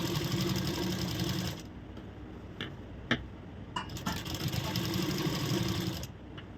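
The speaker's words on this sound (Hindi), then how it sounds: "इसके ऊपर हम सिलाई लगाएंगे" A sewing machine stitching blouse fabric, running in a fast steady whir, pausing briefly in the middle with a few clicks and handling taps, then starting up again close by.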